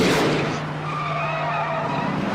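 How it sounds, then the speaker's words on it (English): Tires skidding in a car chase scene from a Mad Max film, a loud screeching slide with engine noise underneath, sustained for a couple of seconds. "This is a great non-CGI car scene"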